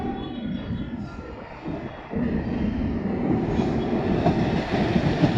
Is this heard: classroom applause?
no